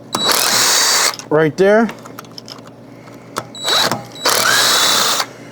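Power tool spinning out 8mm bolts from the cylinder heads of a CFMOTO ZForce/UForce/CForce 950–1000 engine during teardown, two loud close whirring bursts with ratcheting, a brief voice speaking between them.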